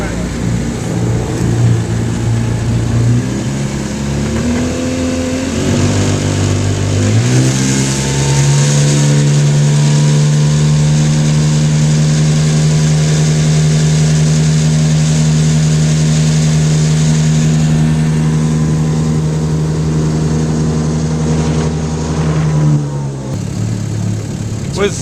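Antique 1953 Firestone outboard motor runs loud and close, first idling unevenly, then revving up around the seven-second mark into a sustained high steady drone before easing back down near the end, with a voice heard briefly.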